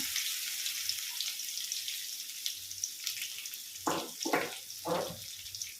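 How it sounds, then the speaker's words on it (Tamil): Crushed ginger and garlic fry in hot oil for a Tamil manathakkali keerai poriyal, hissing steadily and faintly, with a few louder sizzling bursts near the end. "இஞ்சி பூண்டு இடித்து வச்சுருக்கத எண்ணெய்க்குள்ளே போட்டு வரைக்கிறோம்."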